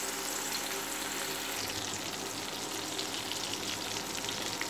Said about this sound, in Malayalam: ഇപ്പോൾ ഒരു സൈഡ് നല്ലപോലെ ഫ്രൈ ആയിട്ടുണ്ട്.